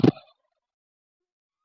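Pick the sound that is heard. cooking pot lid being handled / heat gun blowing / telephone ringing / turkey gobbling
turkey gobbling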